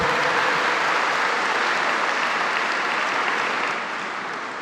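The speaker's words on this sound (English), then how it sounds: "We give her a big round of applause" A large crowd at an international choir games gives a soprano sustained applause in a big sports complex, dense and even, easing slightly toward the end.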